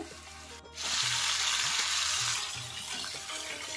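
Chicken leg malai boti pieces sizzle loudly in a pan over high heat, a steady bright frying hiss that swells after a brief pause and holds with faint clatter underneath.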